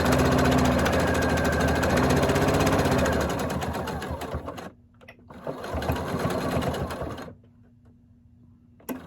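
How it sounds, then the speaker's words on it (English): Fleece hat pieces run through a sewing machine in a loud steady buzz that stops, restarts briefly, then halts, with quiet handling between runs. "And sewing the second piece,"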